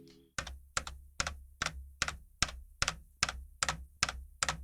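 Steady, evenly spaced jump key taps in Apex Legends repeat about twice a second, sharp clicky strikes with a soft thud, close and alone.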